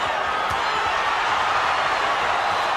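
Steady roar of a boxing arena crowd cheering during a fight, a dense continuous wash of voices with faint thuds underneath and no clear single speaker.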